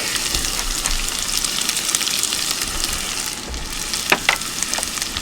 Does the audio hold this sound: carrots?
yes